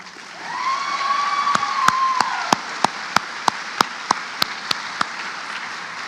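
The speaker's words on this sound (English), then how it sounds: "how about giving our teachers, principals, and staff also a round of applause tonight?" Graduation audience applauding teachers, principals and staff, soft scattered clapping in a large hall under a speaker's voice, then a slow, evenly spaced series of single loud claps near the microphone.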